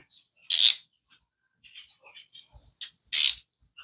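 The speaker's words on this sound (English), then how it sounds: "And we're just going to tighten that nut." A ratchet wrench tightens a 17 mm nut onto a bolt with two short, loud ratcheting bursts and faint mechanical clicks in between.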